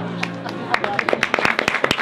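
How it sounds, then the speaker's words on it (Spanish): A crowd at a street chirigota performance during the Cádiz carnival claps in brief, scattered bursts, close and lively, with voices mixed in. "¡Aplausos!"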